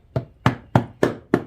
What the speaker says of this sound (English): Got my rubber hammer. I'm gonna tap on the ears.